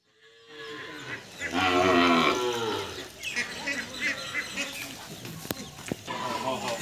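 A cow gives a loud, drawn-out moo close by during vaccination at a veterinary hospital, followed by people talking, background chatter, a couple of sharp knocks and faint bird calls.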